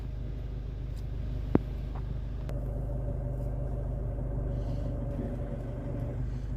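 A car reverses slowly during a driving lesson in Mukdahan, giving a steady low engine rumble heard from inside the cabin, with one sharp click and no talking.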